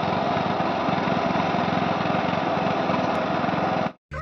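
A tractor engine runs steadily in an open field, a loud, continuous mechanical drone with a fine rapid pulse, holding constant for about four seconds before cutting out abruptly.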